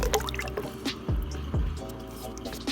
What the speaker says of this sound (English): We're adding the lye water to the oils.